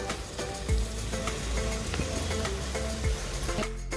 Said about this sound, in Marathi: इथे पाणी काढून घेतलेले सोयाबीन आता फोडणीमध्ये ओतून घेऊया